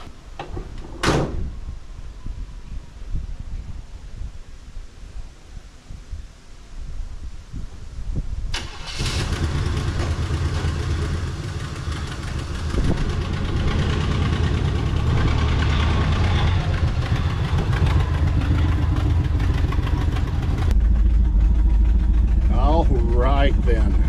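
A 1986 Chevrolet C-10 square-body pickup being revived is cranked after some handling noises, catches and runs into a loud, steady idle, with people talking nearby.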